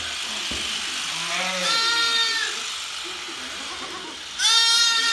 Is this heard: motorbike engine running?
no